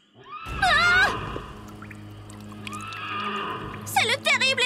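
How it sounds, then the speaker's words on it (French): A cartoon horse from a My Little Pony episode lets out loud, quavering whinnies, one near the start and another near the end, with a steady background tone between them. "C'est le terrible hennissement du cheval sans tête!"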